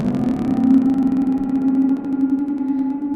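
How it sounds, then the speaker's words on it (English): A sustained Moog Grandmother analog synth drone with a steady low tone and a slowly shifting, sweeping filter modulation, continuous and fairly loud for about three seconds. "Put the filter modulation back in."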